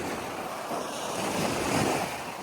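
Rough sea waves surge and crash in a continuous roar, close and loud, with wind rushing across the microphone and no voices.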